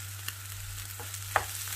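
Egg fried rice with pre-boiled rice and green vegetables being stirred in a frying pan, a soft steady sizzle under light scraping and a few sharp clicks of the utensil.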